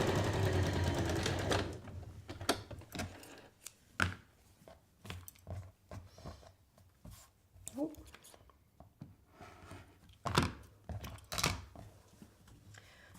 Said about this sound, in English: So we'll just keep sewing it up like this.